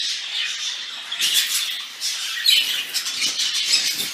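Birds squawk inside an aviary flight, with sharp, shrill calls that start thin and grow busier, repeating in irregular bursts over a quiet background.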